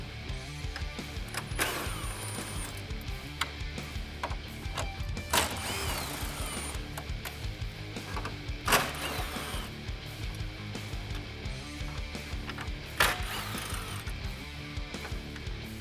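Four 10mm bolts are ratcheted out of the front grille of a 2016-2018 Chevrolet Silverado 1500, a steady clicking, whirring ratchet with a few sharper metallic clanks, close up and without talk.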